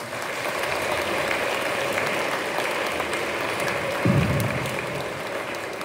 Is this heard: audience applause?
yes